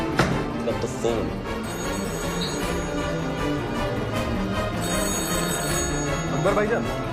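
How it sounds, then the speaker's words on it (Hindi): A telephone rings on and on in a cabin, a steady electronic trill sitting under a dense bed of background music and voices, loud and continuous throughout. "अकबर के कैबिन का फोन लगातार बज रहा है।"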